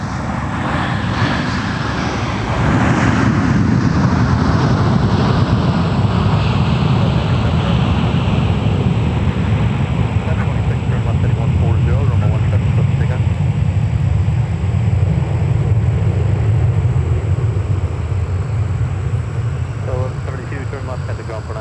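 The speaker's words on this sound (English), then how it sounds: "Delta 258 Heavy. Lining up with runway 12 right." Delta 258 heavy jet lining up on runway 12 right at Minneapolis airport, a loud sustained engine roar that swells after a few seconds and stays strong and close throughout.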